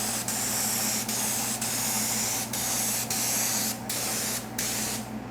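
Spray gun laying down a coat of candy paint in a steady, loud hiss, briefly interrupted by several short pauses as the trigger is released, with no voices.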